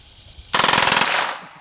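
A full-auto firearm fires one short, loud, rapid burst lasting about a second, with the shots blurring into a continuous roar that then trails off, following a quiet moment.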